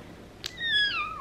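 A single clear meow from a lively pet cat, rising then falling in pitch, comes right after a brief soft click, close and fairly loud.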